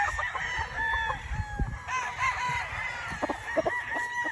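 A gamecock rooster crows and clucks close by, with repeated rising calls and short clucks over a busy farmyard background.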